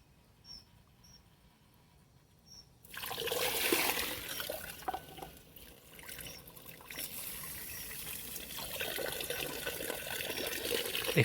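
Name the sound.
water flowing from garden hose into jug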